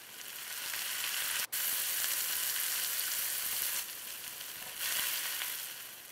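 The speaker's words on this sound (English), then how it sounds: "So saute it well for another 3 to 4 minutes." Mushrooms, white or button, sautéing in a pan for a cream of mushroom soup, a continuous broadband sizzle with one sharp click early and a slight dip then swell in the hiss toward the end.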